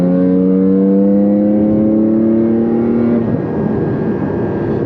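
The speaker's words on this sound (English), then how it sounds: "the sound of that engine," A Porsche 718 Cayman GT4 sports car engine holds a loud, steady, tonal note that drops away after about three seconds into a rougher, lower rumble, heard close with no talk.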